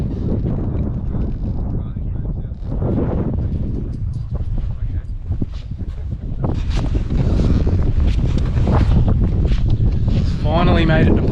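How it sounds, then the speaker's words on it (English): Strong wind gusts buffet the microphone at Poeppel Corner in the Simpson Desert, a constant loud rumbling roar that swells further partway through, with brief speech-like sounds mixed in. "it's a bit windy here"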